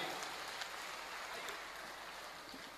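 An audience claps steadily through the whole stretch at a wedding celebration. The applause is a soft, dense patter heard from a distance and stays fairly even throughout.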